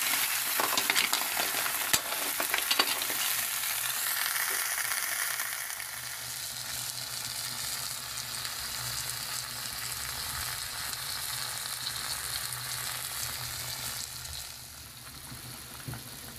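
Clams sauté in their own juice in a pan, sizzling and bubbling steadily with stirring and utensil clinks early on before easing to a softer, constant frying hiss.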